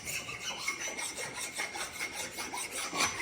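A hand file rasps across a new ring gear to clear burrs, giving a steady, close scraping of metal strokes repeated throughout without any voices.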